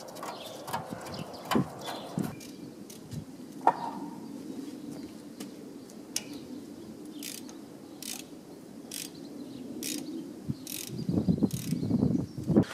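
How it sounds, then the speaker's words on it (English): A spanner tightening the radiator bolts on a Massey Ferguson 265 tractor: a run of quick metallic ratcheting clicks at close range, irregular clanks, and faint birdsong in the background. "Once in a little bit I can start doing that with the spanner."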